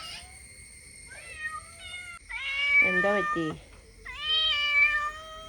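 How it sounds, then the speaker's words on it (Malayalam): A neighbour's cat meows several times, rising and falling calls in a few bursts, with a person speaking briefly in between. "അപ്പുറത്തെ വീട്ടിലെ പൂച്ച ഉണ്ട്"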